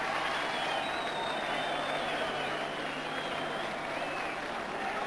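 Spectators at a boxing match cheer in a sustained, fairly distant roar after the fight ends, steady throughout without clear peaks.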